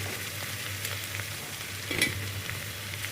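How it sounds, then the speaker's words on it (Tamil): Okra (ladies' finger) frying in hot oil for an Andhra-style tamarind curry, a steady close sizzle with occasional crackles and a brief louder spatter partway through, no voices. "கொஞ்ச நேரம் எண்ணெயில் அப்படியே வதங்கிட்டோம்."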